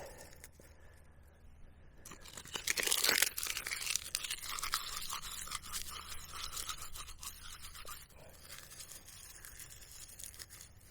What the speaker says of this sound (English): Kind of crumple this up as much as possible, get it so it can catch a good spark.